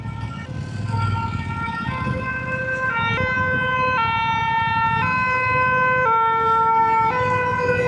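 Police or fire engine siren sounding through Paris traffic, a steady two-tone wail alternating pitch every second or so, fairly close and loud over the rumble of road noise.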